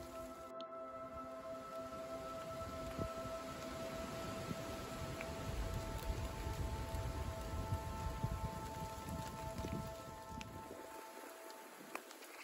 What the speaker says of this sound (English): The wind is blowing, there's rain dropping everywhere,